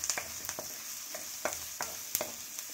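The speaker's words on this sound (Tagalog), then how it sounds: "Mag-start na tayo ng pagluluto. At igisa muna natin ang sibuyas." Onions sautéing in a hot pan, a steady close hiss of frying with repeated sharp scraping clicks as a utensil stirs them at irregular intervals, no voices.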